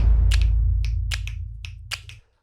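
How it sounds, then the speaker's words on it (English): Sharp claps and clicks introduce a drum beat in trailer-style music, a sparse run of crisp snaps over a deep sustained low rumble that cuts off abruptly at the end. "we've obviously got these things introducing the beat, which I used claps and clicks"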